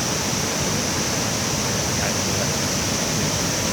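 Spray from the Tad Tham Champi waterfall in Laos makes a loud, steady, unbroken roar of rushing water close by.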